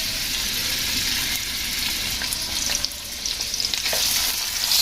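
Chopped onion frying in groundnut oil in a pot gives a steady, close hiss and crackle, with occasional light spoon scrapes and clicks breaking through the sizzle.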